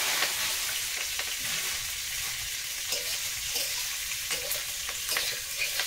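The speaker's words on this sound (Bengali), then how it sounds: "এটা হালকা নাড়াচাড়া ভাজা ভাজা হয়ে যাবে" Taro stolons stirred and frying in a pan give a steady loud sizzle, with scraping stir strokes recurring throughout and no talking.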